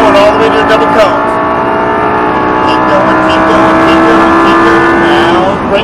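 Lamborghini Gallardo on a track at full throttle, a loud engine tone climbing and holding through the gears while an instructor keeps talking over it.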